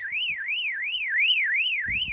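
A Radtel RT-880 radio's warbling electronic alarm tone sweeps steadily up and down in a repeating cycle, loud and continuous, with a brief low rumble near the end.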